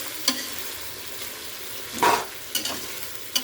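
Boiled prawns frying in spiced oil in a pan for prawn biryani sizzle softly, broken by a few sharp clinks and scrapes of a spoon stirring at irregular intervals, with no talking.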